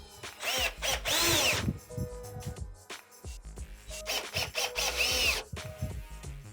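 Cordless drill driving screws to fasten the internal module of an MFD 3000 D digital door lock, two loud whirring runs with rising pitch, separated by a short pause and light handling clicks.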